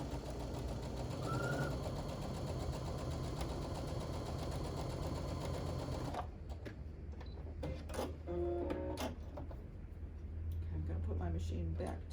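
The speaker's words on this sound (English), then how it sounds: "I'm sewing right on that marked line" A sewing machine stitches quilt fabric along a marked line in a steady mechanical whirring run for about six seconds, then stops, leaving a quiet stretch with someone talking and a low hum.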